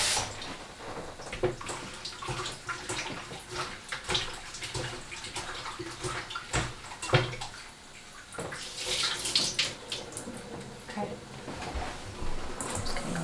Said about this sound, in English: Just gonna fill it up with water.